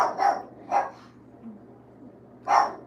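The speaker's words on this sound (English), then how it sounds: "Pause for a minute while the dog barks at somebody walking by." A dog barks at a passerby: three loud, sharp barks close by, two in quick succession and one after a pause, with quiet room sound between and no talking.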